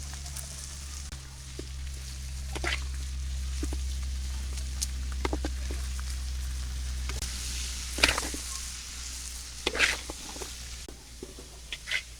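Tomatoes with turmeric powder and salt frying in a pan, a steady low sizzle with scattered soft clicks and scrapes of stirring, fairly quiet and without talk.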